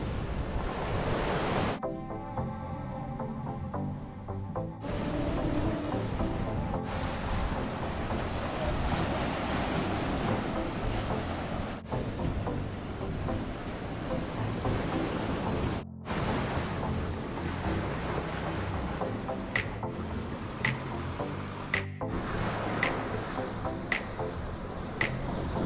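Ocean waves wash onto the white-sand beach at Smith Cove in Grand Cayman, a steady broad roar of surf with wind noise on the microphone, continuous and fairly loud with no voices.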